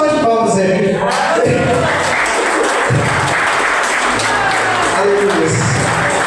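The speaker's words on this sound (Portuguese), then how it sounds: "Uma salva de palmas, Zé Vivo." Loud, sustained applause from a church congregation, with scattered cheers and shouts mixed in throughout.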